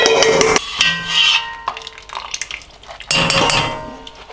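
Metal utensils clank and scrape against a stock pot as ingredients are lifted out of finished stock for Korean doenjang soup, with several bright clatters early and a loud cluster near the end.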